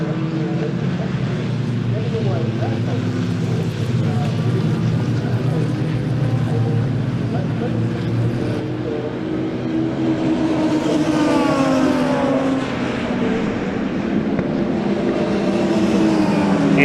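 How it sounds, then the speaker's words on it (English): Racing car engines at Brands Hatch during a Caterham motorsport race rise and fall as cars pass, with rising and falling whines and a continuous throaty drone. Crowd and circuit ambience sit underneath. "Worth just taking a pause to listen to these stunning engines."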